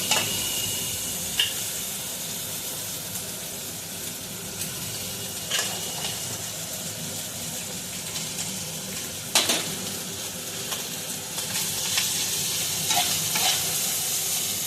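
Rice stir-fried in a wok for mixed fried rice, a continuous sizzle broken by scraping stirs and sharp metallic clanks of the utensil against the pan, close and alone.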